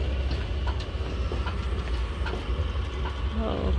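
Rumbling rail vehicle rolling along tracks with rhythmic clacks and occasional squeaks, a steady close ride noise.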